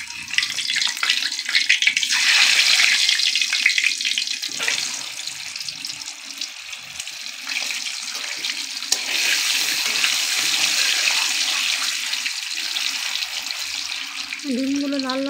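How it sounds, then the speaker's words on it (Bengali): Eggs fry in a wok with turmeric in oil, a loud, steady hissing sizzle that swells and fades with stirring, close and continuous, with a brief voice at the very end. "ডিমগুলো লাল লাল করে ভালো করে ভেজে নেব।"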